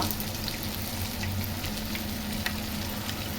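Egg cutlet bondas frying in hot oil in a home kitchen, a steady soft bubbling sizzle throughout with a faint clink of a spoon near the end.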